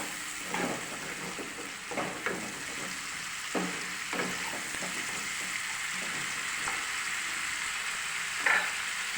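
Spices with chili powder being stirred in a frying pan, a low sizzle under intermittent scraping strokes of a spatula spaced a second or so apart, close by.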